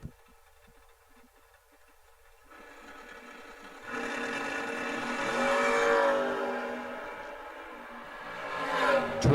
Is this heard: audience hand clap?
no